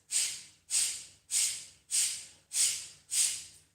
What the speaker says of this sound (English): pull your stomach inwards to exhale through the nostrils